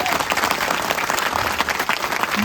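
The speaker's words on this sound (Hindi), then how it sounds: "तो जब तक तुम्हारी ताली जोर से नहीं होगी मैं शुरू नहीं करूंगा।" Audience applause fills a TEDx talk hall at RKGIT, a dense, continuous wash of many hands clapping together, loud and sustained for the whole short stretch.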